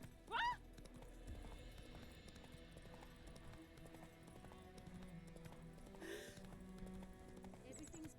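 In The Witcher 3, the horse Roach trots and gallops with steady clip-clop hooves under quiet game ambience, with one short loud burst near the start and a voice speaking.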